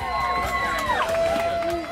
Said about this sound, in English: The crowd is going nuts as the fish is carried over